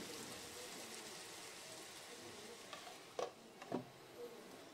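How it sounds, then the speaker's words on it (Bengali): Garlic and chili paste frying with rui fish in a pan, a steady soft sizzle with two brief louder stirring scrapes near the end. "কিছুটা ভাজা ভাজা করে নিয়ে এবার রসুন আর লঙ্কার পেস্টটা দিয়ে দেবো।"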